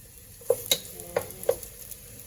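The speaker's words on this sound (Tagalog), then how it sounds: "Konti lang yung oil natin. Ayan. And then, mix natin yung sibuyas." Chopped onions stirred into a little hot oil in a pan, giving a faint, steady sizzle with a few soft clicks and scrapes of a utensil against the cookware.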